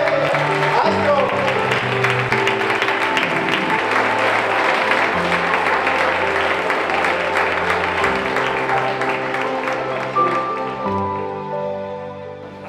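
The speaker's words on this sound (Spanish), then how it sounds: "Todos ustedes, un aplauso," Audience applause at the sixth edition of the Villamayor de Cine film event, a dense steady wash of clapping mixed with music-like tones and a voice, holding loud throughout before easing slightly at the end.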